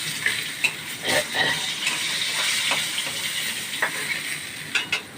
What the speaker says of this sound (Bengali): 5 ভাজা হয়ে গেছে, এবার তুলে দিচ্ছি।